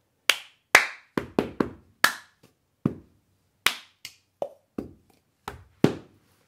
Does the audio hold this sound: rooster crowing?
no